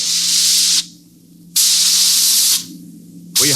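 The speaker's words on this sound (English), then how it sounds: "We could hear the desperate bursts of steam through the steering tubes as the Starfire maneuvered to dodge the enemy attacks" Hissing bursts of steam through a spaceship's steering tubes as it maneuvers in a radio-drama battle, loud broadband blasts in a repeating pattern: two long gusts with short pauses between, then a third starting at the end, over a steady low hum.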